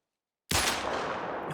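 A hunting rifle fires in theHunter: Call of the Wild, one loud close shot bursting out of silence with a long rolling echo that fades slowly.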